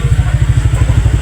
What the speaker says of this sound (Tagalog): Ay, motor.